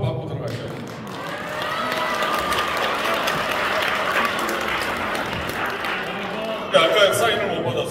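An audience applauds at a celebratory performance marking the 105th anniversary of Korea's March 1st Independence Movement. The clapping is sustained and crowd-wide, with a voice talking over it and a brief louder burst near the end.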